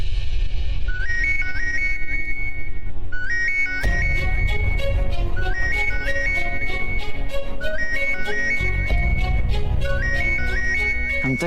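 A phone ringtone playing a repeating bright electronic melody in short, regular phrases, loud and close. Partway through, a heavier rhythmic background with low thumps joins under the repeating tune.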